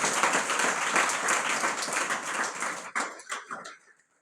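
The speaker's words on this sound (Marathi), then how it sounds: "आपण टाळ्या वाजून कौतुक करूया" An audience at a lecture series applauds together, a dense patter of clapping that holds steady for about three seconds, then breaks into a few scattered final claps and fades out.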